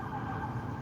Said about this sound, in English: We do have lights and siren, but it passed us by once again.